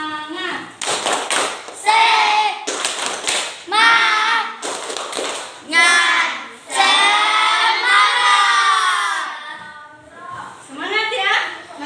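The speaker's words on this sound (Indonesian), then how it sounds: "kita tepuk semangat dulu" A classroom of children does a rhythmic spirit-clapping routine, bursts of sharp group claps in patterned sets alternating with loud chanted words, all close and lively.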